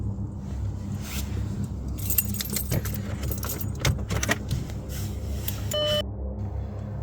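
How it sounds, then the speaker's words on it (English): Car keys jangle and scrape near at hand as they are fitted into the ignition inside a parked car at night, a bright metallic rattle in bursts over a low background rumble. "Pop my key in the centre part."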